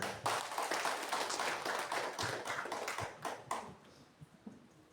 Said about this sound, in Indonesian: Tepuk tangan buat mereka.